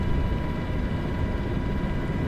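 Steady, loud helicopter engine and rotor drone inside the cabin during a flight over the Grand Canyon on autopilot, a dense unbroken low rumble with no clear breaks.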